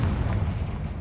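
A Confringo spell explodes in the video game Hogwarts Legacy with a loud, deep, rumbling blast that fills the full second.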